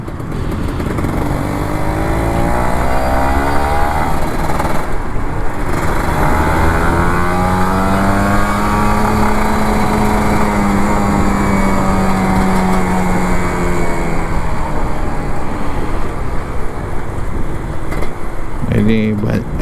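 A Kawasaki Ninja RR 150 two-stroke motorcycle, ridden home from the office, revs and rises in pitch close by, holding a loud buzzing drone for nearly twenty seconds with a brief dip around the fifth second.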